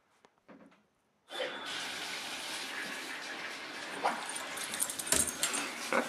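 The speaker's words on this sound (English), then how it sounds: "We're going to turn on the shower one more time." A household shower starts running with a steady broadband hiss of spraying water that continues throughout, after a brief quiet pause with a few small knocks, while an excited dog snorts and shuffles nearby.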